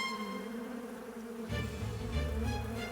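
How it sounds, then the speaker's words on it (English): Bees from a disturbed hive buzz as a sound effect in a children's story, with a steady hum that thickens into a louder, denser swarm partway through. "The bees are attacking!"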